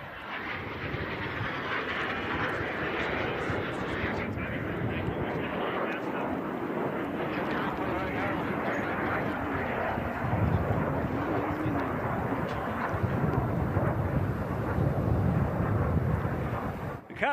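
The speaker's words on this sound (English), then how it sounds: "Last pass. All right, last pass over your right shoulder. The A-37." An A-37 jet making a last pass at the Hill Air Show, a continuous jet roar that swells toward the end, with a voice talking over it.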